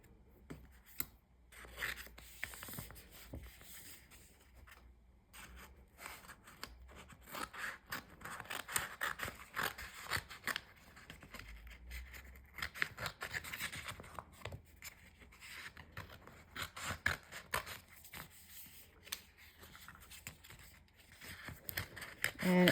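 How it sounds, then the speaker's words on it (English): Quiet scissors snip and scrape through paper in irregular bursts, with soft rustling and handling sounds throughout. "Let me get my scissors."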